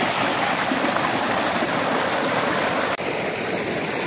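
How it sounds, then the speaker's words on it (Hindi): Water gushes under high pressure through a channel toward farm fields in an Indian village, a loud, continuous broadband roar like a rushing stream, with one brief dip near the end. "ये देखिए कितना ज़्यादा प्रेशर है पानी का, ये सारा पानी जा रहा है खेतों की तरफ।"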